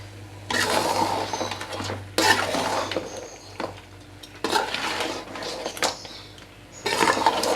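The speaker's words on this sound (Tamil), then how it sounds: "இந்த மசாலா எல்லாம் நண்டில் ஏறுற மாதிரி ஃபுல்லாக பெரட்டி விட்டுடுங்க" Crab being turned through masala in a cooking pan, with repeated bursts of scraping and clattering from a spoon against the pan, separated by short pauses over a faint steady hum.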